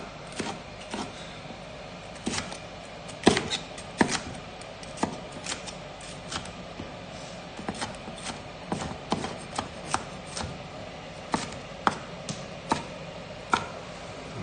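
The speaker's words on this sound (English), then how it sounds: "Chopping your vegetables? Yes. Dicing." A knife dices vegetables, red ones among them, on a cutting board during a cookalong. Sharp, irregular taps and chops come close and clear over a quiet room background, with brief pauses between bursts.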